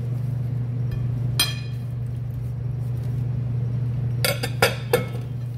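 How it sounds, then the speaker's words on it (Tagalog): Spoon or utensil clinking against a bowl while boiled potatoes are mixed for a potato, carrot and pineapple salad, a few scattered sharp clinks over a steady low electrical hum, clustering near the end. "Tapos po lalagay natin ang nilagang patatas. Halo-halo lang po yan."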